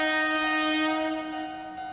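A sustained, steady video game train horn blares with rich tonal harmonics, fading slightly toward the end.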